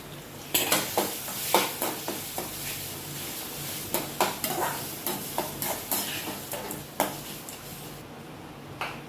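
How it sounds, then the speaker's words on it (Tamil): Urad dal, curry leaves, peanuts and mango frying together in a pan for mango rice, with a steady sizzle broken by repeated scraping stirs of a spoon against the pan. "அரை உளுந்து, கருவேப்பிலை, நிலக்கடலை, மல்லிப்பருப்பு போட்டு பொரிஞ்சதுக்கப்புறம் மாங்காவும் போட்டுக்கொள்ள வேண்டும்"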